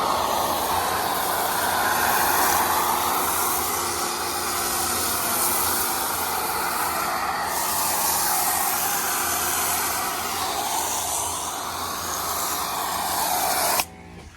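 Low-pressure power washer spraying a car, a steady broad hiss of water jet against the bodywork that holds at an even level throughout before cutting off abruptly at the very end.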